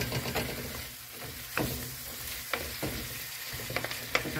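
Fried spare ribs stirred into a pan of sautéed garlic, onion and tomato, with a constant sizzle broken by scraping utensil strokes and occasional sharp clinks against the pan.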